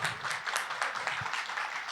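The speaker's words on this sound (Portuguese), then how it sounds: "Nosso público em pé para aplaudir as meninas, as mulheres, os músicos." A standing audience applauds musicians and a vocal group at a judiciary closing ceremony, the clapping steady and dense across the whole moment at a moderate distance, with no voices on top.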